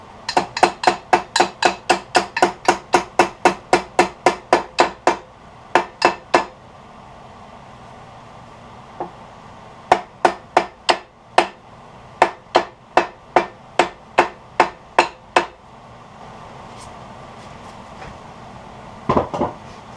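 Repeated sharp hammer taps drive a metal ferrule onto a lathe-turned wooden tool handle, coming in a fast steady run of blows, then short groups and scattered strikes with pauses between, close and distinct with no talking.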